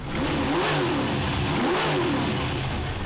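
A Ford XP Falcon, a former taxi now running about 680 horsepower, revs hard and loud, its engine note climbing and falling in two sweeping pulls with no talk over it.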